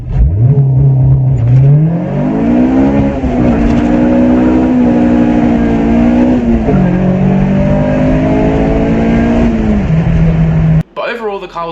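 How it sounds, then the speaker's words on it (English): Honda Civic EG with a swapped Type R engine doing a launch-control start, loud and close, its engine note climbing through repeated revs and gear shifts for about eleven seconds before cutting off abruptly at the end. "I did a bit of a cheeky launch control going home"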